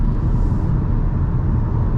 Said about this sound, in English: This thing just picks up and goes when you just floor it.